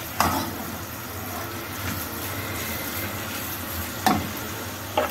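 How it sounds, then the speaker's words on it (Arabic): Minced meat being stirred and sautéed in a pan over high heat for baked macaroni with béchamel, a steady soft sizzle with a few sharp spoon scrapes against the pan, no talking. "هنقلب اللحمه كويس قوي لغايه ايه ما لونها يتغير، تتشوح"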